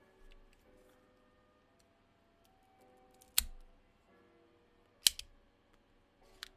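A cigar cutter snaps through an Espinosa Crema No. 4 cigar in a few sharp, close clicks spaced seconds apart, with quiet room tone in between.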